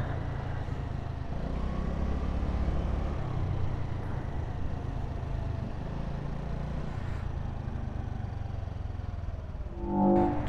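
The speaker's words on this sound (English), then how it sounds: "Traffic is slowly moving along here." Slow-moving road traffic on Bardstown Road in Louisville, Kentucky, passes a Honda Navi motorcycle on a winter ride, a continuous low engine and road rumble with a brief louder swell at the end, no talk.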